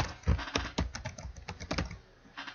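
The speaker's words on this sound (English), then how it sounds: "You could just type in" Keystrokes on a computer keyboard typing an email address, a rapid, irregular burst of close clicks and taps alone for a couple of seconds, with no talk.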